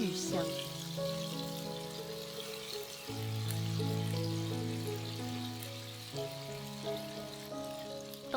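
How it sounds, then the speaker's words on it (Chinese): Tofu pan-fries gently in homemade rapeseed oil, a soft, steady sizzle heard under sustained musical tones. "煎豆腐的油是亲戚家自己冻的油菜榨的菜籽油，巨香。"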